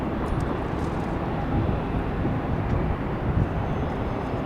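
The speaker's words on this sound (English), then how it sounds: "That's a flex jet. Taking off on 28." A Flexjet business jet takes off on runway 28 at Tampa airport, a steady broadband engine roar that holds loud and unbroken, heard from the ground without voices.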